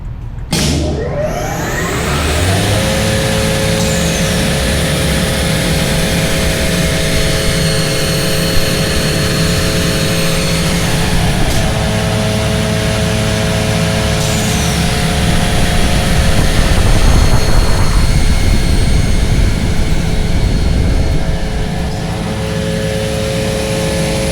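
A US Concepts CHA-8 hauncher, a foot-pedal-actuated woodworking machine tooled for box joints, runs with a continuous loud mechanical hum and whine close by, its drone shifting slightly in tone as it cycles, with no talking.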